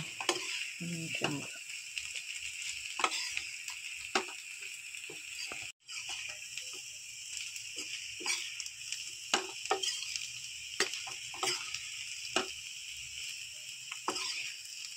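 Colocasia (arbi) pieces dry-frying in a pan over medium flame give a steady close sizzle, broken by repeated scraping and stirring strokes that come in irregular bursts throughout, with no talking.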